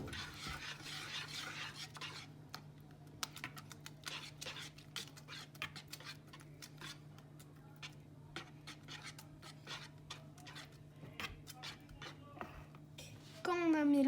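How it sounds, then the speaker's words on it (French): A spoon stirs cupcake batter mixed with oil in a bowl, producing soft, repeated scraping and light clinks against the sides in an irregular rhythm, close by, with quiet voices in the background and a louder clatter at the very end. "Et on mélange bien."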